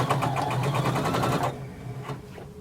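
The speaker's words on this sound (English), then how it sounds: "you're going to sew close to the edge all the way around" A sewing machine stitches close to the edge around the elastic casing of a jumpsuit, running in a fast, steady close-up rhythm for about a second and a half before stopping, leaving faint handling noises.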